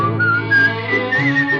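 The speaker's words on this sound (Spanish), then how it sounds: "Ese silbido no estaba en ninguna partitura." A melodic whistle from a singer's song recording, a clear sustained tune with sliding pitch over soft instrumental backing, close and prominent.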